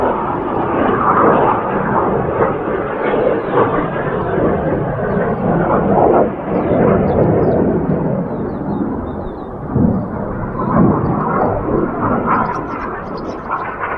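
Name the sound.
jet aircraft flying over during an air display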